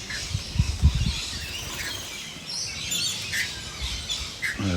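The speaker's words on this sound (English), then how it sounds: "Lots of birds out today." Birds chirp and tweet outdoors in scattered calls, with a few brief squawks near the start over quiet ambient background.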